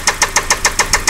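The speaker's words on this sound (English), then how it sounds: "we heard that this knock started to get kind of loud, it just seemed to be increasing" A 2003 Saab 9-5 engine knocks loudly and steadily, about seven evenly spaced sharp taps per second over a running engine, close up with no talking.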